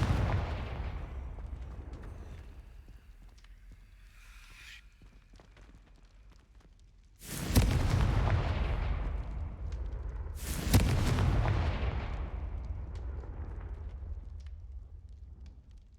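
Two heavy fiery blasts from the Confringo spell in the game Hogwarts Legacy burst out a few seconds apart, each loud and booming with a long rumbling decay, over a low background.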